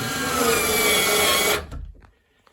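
A powered screwdriver drives a screw into a door handle during a faulty handle replacement, whirring steadily and loud for about a second and a half before spinning down and stopping.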